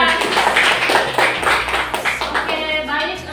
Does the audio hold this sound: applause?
yes